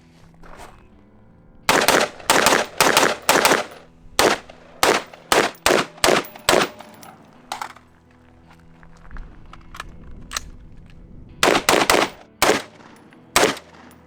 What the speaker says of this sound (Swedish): Men vi kör några skott och så ser vi hur det funkar.